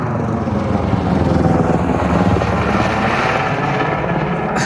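Tour helicopters flying over the Grand Canyon backcountry, a steady rotor drone and rumble heard at a distance, continuous and fairly loud throughout, with no talking.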